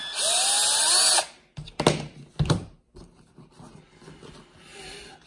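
Power tool spinning out bolts on a Losi 8ight-T RC car: a loud, high-pitched whirring burst for about a second, followed by a few close clicks and clatters of parts being handled.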